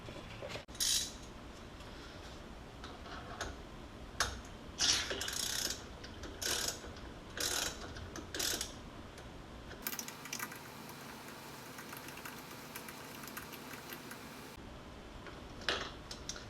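A ratchet loosening a bolt on Sachs motorcycle fork internals held in a clamp, with repeated metallic clicking strokes and clinks of tools, then a steady run of fine ratcheting, close and moderately loud, with no talking.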